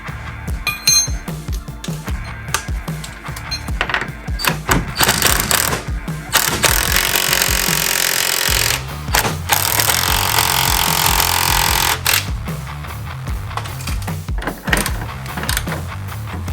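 An impact wrench drives the bump stop bolts on a 2016 Toyota Tacoma in loud, sustained rattling bursts broken by brief pauses, with no talking over it.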